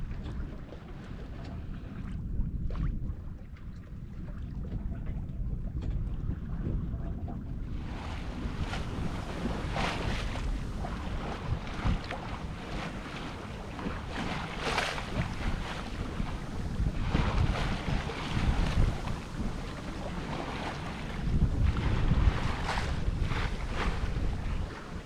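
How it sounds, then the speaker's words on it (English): Wind building over open water aboard a West Sail 32 sailboat at sea off Australia's east coast, a steady rushing breeze and wash that starts quieter and swells fuller after several seconds, continuing broad and constant with no voices. "After hours of drifting on the tide, finally getting a bit of breeze picking up."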